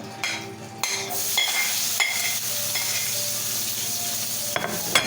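Seasoning sautés with fish in a pan for Jamaican brown stew fish, a steady close sizzle and hiss broken by a few stirring scrapes and clinks of a utensil.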